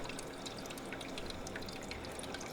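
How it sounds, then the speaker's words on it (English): An Igloo ice maker refills with water after dumping its ice into the tray, producing a steady close trickle with scattered drips running throughout. "then it'll fill up the water again"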